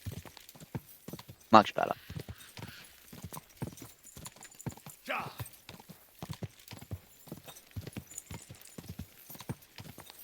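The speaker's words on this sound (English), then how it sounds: "This is how a horse should run, man." A horse gallops in the video game Kingdom Come: Deliverance 2, its hooves pounding in a quick, rhythmic clip-clop, with a brief neigh early on and someone speaking over it.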